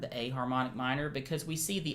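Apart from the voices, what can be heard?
No everyday noise stands out behind the speech.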